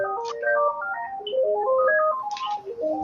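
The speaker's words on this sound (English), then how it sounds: "Whose phone is it?" A mobile phone ringtone plays a bright, stepping electronic melody of rising and falling notes during a lecture, loud and continuous with no talk over it.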